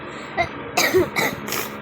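A few short, harsh coughs close to the microphone, coming in quick bursts one after another.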